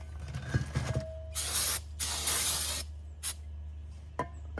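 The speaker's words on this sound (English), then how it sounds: "Just gonna get some brake cleaner" Several bursts of brake cleaner spraying from an aerosol can hiss close by during 2022 Jeep Wagoneer rear brake work, two long and a few short, separated by quiet pauses and faint clicks.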